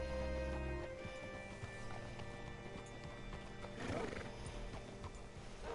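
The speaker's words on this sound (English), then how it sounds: "Hitch your horse up here." A horse in the video game Red Dead Redemption 2 whinnies and snorts amid a steady clip-clop of hooves, with continuous game ambience and music underneath.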